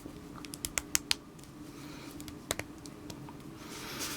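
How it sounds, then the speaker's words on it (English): Hip joints of a 6-inch Fortnite Tomatohead action figure ratcheting as the legs are moved, a quick series of sharp close clicks early on, then a couple more after a pause. "Do you hear the ratcheting there?"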